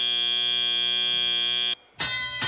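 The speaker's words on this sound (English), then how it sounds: "There's the buzzer. Teleoperated mode starts." A loud, steady electronic match buzzer at the 2016 Mt. Olive robotics competition drones for nearly two seconds, cuts off sharply, then gives way to a burst of arena noise.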